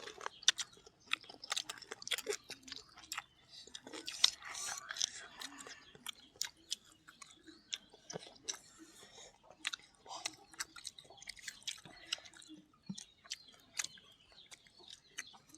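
Close, quiet crunching of crispy fried spring rolls being chewed, with irregular crackly bites scattered under soft speech.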